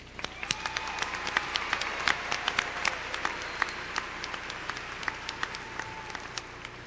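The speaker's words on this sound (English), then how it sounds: "Let's all give a huge round of applause for making it to this day." Sustained crowd applause at a 2021 high school graduation ceremony, a dense wash of many hands clapping steadily for several seconds with sharper individual claps popping out, fairly distant in a large space and no one speaking over it.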